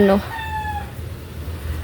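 Chickens in a backyard chicken coop give a brief clucking call, then a drawn-out squawk fades away, leaving low rustling and background noise.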